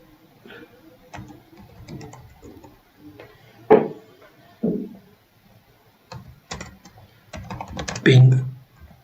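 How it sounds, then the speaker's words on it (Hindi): Keys clatter on a computer keyboard while a command is entered into a Windows command prompt, in irregular bursts of light taps and a few louder presses, with a voice speaking quietly under the typing. "अब मैं सीएमडी में जाता हूँ, यहाँ पे टाइप करता हूँ"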